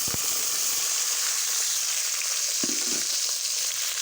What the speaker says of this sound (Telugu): ఇప్పుడు మన చిక్కుడుకాయల్ని వేసుకొని ఫ్రై చేసుకుందాం.